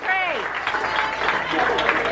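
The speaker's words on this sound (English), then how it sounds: "How about a round of applause to these guys, man?" Applause and cheering from a crowd at a burrito eating contest, a steady wash of clapping lasting a couple of seconds beneath a host's voice.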